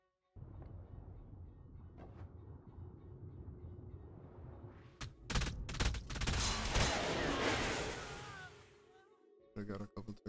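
Turrets firing at a raid in Ark, a dense burst of rapid automatic gunfire over a constant rumble, with further short volleys near the end.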